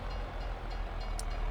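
A freight train rolls past at a rail crossing in rural Alma, Missouri, giving a steady rumbling roar with faint rhythmic wheel clatter, close and continuous throughout.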